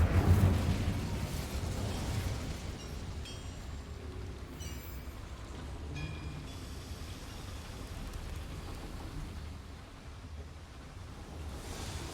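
Incendiary spell blast in Hogwarts Legacy, opening with a sharp burst and settling into a rolling, crackling fiery rumble that lingers steadily throughout, with no voices.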